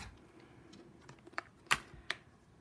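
Sharp cuts through stacked fabric squares with a sewing cutter, a few crisp separate snips and clicks at close range over a quiet room, with the loudest one near the middle.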